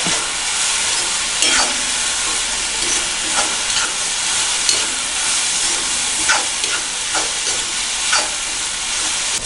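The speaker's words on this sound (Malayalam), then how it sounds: "ചീന്തി വെച്ചിരിക്കുന്ന പച്ചമുളകും ഇനി നന്നായി വഴറ്റുക" Onions and split green chillies frying in oil, a loud continuous hiss of sizzling with intermittent scraping stirs across the pan, close up and no voices.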